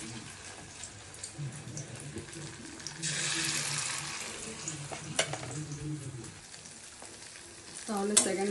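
Bengali prawn dal koftas fry a second time in hot oil, a soft steady sizzle with occasional stirring clinks and a brief stronger hiss, fairly faint overall.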